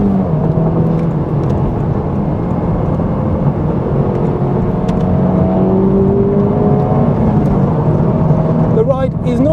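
A 2024 Honda Civic Type R in sport mode accelerates on a high-speed bowl, a steady loud interior drone of engine and road roar rising in pitch, with speech underneath.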